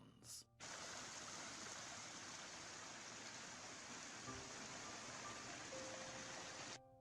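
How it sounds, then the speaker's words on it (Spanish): Streams and rivers on an English country estate flow steadily, a continuous broad rushing wash of water that holds evenly for several seconds after a brief opening sound, with no talk over it. "Las vías fluviales, los arroyos y los ríos serpentean suavemente hacia abajo para descansar brevemente en estanques y lagos"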